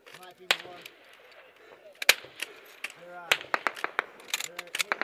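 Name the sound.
M240B and M249 machine guns firing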